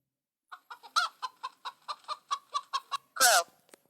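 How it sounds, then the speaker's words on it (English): A chicken clucks in a quick, evenly paced run of about a dozen short, close clucks, ending in a louder drawn-out squawk. "Chicken."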